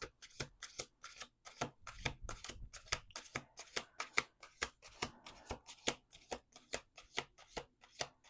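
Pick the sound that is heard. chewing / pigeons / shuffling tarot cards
shuffling tarot cards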